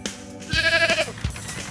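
A farm goat lets out a bleat that rises for about half a second and then trails off, loud and close, followed by a brief fainter bleat. No one speaks.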